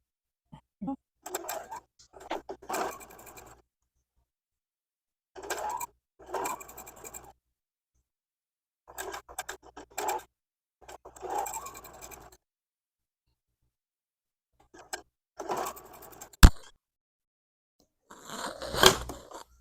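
A sewing machine stitches rows of a diagonal nine patch quilt block together in about five short runs separated by quiet pauses, with a sharp click near the end.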